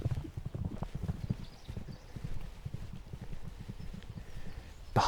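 White horses galloping behind a hedge in the English South Downs countryside, a quick rhythmic run of hoof clip-clops at moderate distance, fairly faint with a light breeze and no talk.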